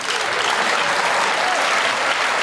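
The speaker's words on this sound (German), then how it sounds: "Applaus, das ist Ihr Applaus." Studio audience at a German TV entertainment show breaks into loud, dense applause, a continuous roar of many clapping hands filling the whole stretch.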